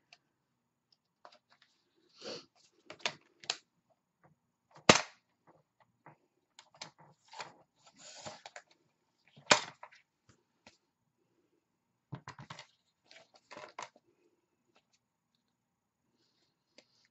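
Scissors cut paper trim for barn door wall decor in a craft project, giving quiet, sharp, isolated snips scattered irregularly over a long, otherwise silent stretch.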